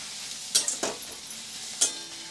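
A Bombay duck (bombil) dry fish mixture gets stirred with turmeric in a pan: a few quick scraping clinks of a spoon over a faint background hiss, sparse and close.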